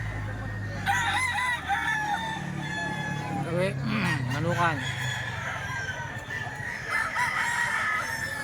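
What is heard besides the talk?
roosters crowing at a poultry market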